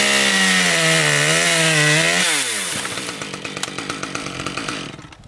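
A chainsaw cuts the top cut through a dead ash branch, its loud revving whine holding then dropping as the chain bites, followed by rough rhythmic chewing through the wood that fades out near the end.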